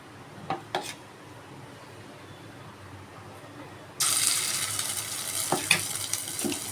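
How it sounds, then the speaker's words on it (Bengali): Fish frying in hot white oil in a wok for a Kolkata fish dish: after a quiet start with a couple of light clatters, a loud, steady sizzle erupts halfway through and keeps hissing to the end. "তেলটা যখন হালকা গরম হয়ে আসবে একে একে মাছটা ছেড়ে দেব।"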